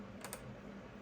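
Typing on the keyboard of a 1997 CTX EzBook 700 laptop gives a faint, steady stream of soft key clicks with a couple of slightly sharper taps, close and alone in a quiet room.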